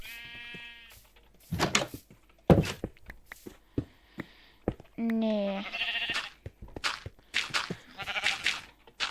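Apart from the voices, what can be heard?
sheep bleating in Minecraft video game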